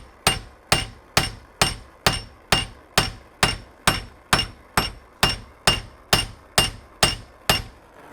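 Steady, evenly spaced hammer blows beating hot metal flat on a vise top during gunsmithing metalwork, about two strikes per second, each a sharp ringing clang, loud and close with no talk.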